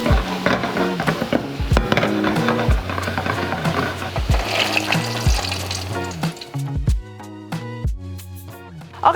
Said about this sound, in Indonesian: di sini aku mau goreng dibalur sama telur ya, si meatloaf-nya ini